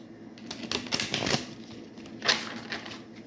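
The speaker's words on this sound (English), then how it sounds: "I'm going to do a little shuffle" Crisp new tarot cards being shuffled by hand: a few quick riffling, papery crackles in bursts close by, with no talking.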